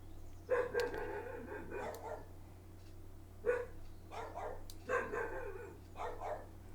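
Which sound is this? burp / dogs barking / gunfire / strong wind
dogs barking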